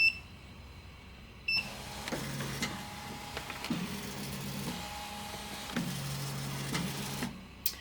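An embroidery machine traces its design outline with humming, whirring motor movements in several separate bursts, each separated by brief pauses, and with a short mechanical click at both the start and the finish.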